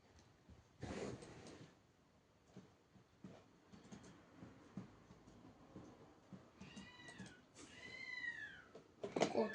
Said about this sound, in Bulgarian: Котки.